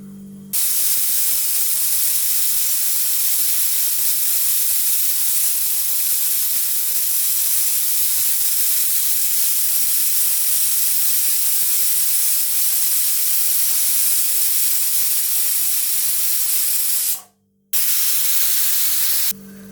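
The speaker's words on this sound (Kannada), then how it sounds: "ಕುಕ್ಕರ್ ವಿಷಲ್ ಬಂದಾಗಿದೆ ನಾಲ್ಕು ಇಳಿಸ್ಕೊಂಬಿಡೋಣ ಇದನ್ನ" A kitchen pressure cooker cooking dal for sambar vents steam in one long, loud, continuous hissing whistle lasting many seconds, with a brief break near the end before the hiss resumes.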